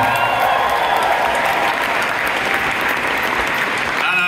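A concert crowd claps loudly and steadily, dense applause with faint cheering mixed in throughout.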